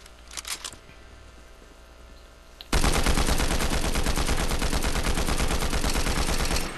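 A rail gun in a video game opens up suddenly after a quiet stretch, pouring out a loud, rapid, unbroken stream of shots for about four seconds with no talking over it.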